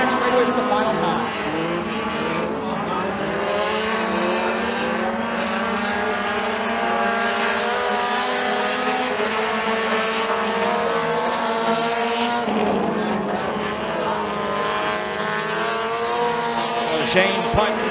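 Mini stock race cars roar down the back straightaway at McKean County Raceway, a dense, loud engine drone with shifting revving pitch throughout, overlaid by an announcer's voice calling the race.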